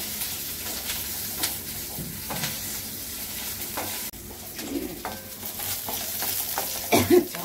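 Green chillies fry and sizzle steadily in a pan for chinthakai pachadi, a constant close hiss with occasional stirring scrapes and light clinks of a utensil against the pan.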